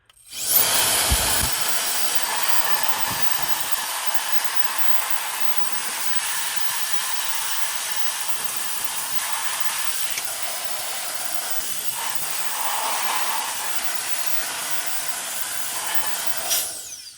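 A Euki X3 cordless turbo fan blows dust out of car vents with a loud, steady rushing whoosh that holds for the whole stretch, dipping and swelling slightly near the end.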